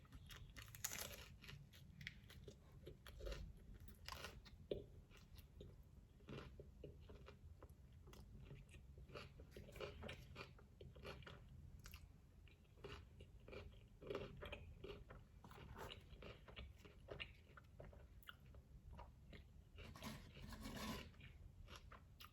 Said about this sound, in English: I'm just eating my taco.